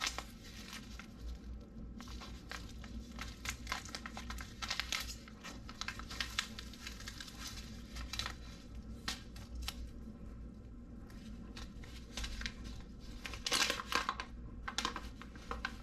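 A plastic bag of gold paydirt is cut open with scissors: quiet, close crinkling and rustling plastic with sharp snips and small tearing sounds, continuing throughout at low volume.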